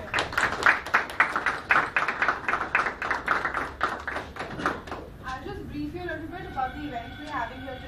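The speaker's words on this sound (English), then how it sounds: "Let's have a big round of applause for the final seven teams present here" An audience at the MWC 2012 competition applauds the final seven teams with a dense burst of clapping lasting about five seconds, then it gives way to a bright musical passage.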